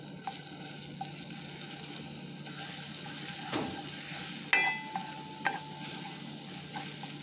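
Garlic sizzles steadily in hot cooking oil in a pan, a soft continuous frying hiss with a few sharp clinks of a utensil against the pan.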